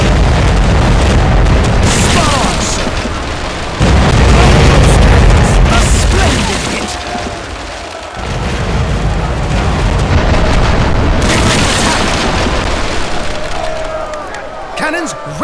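Ship cannons roar in a naval broadside in a video game, a run of heavy booms and bursts, loud and close, under a busy, rumbling battle din.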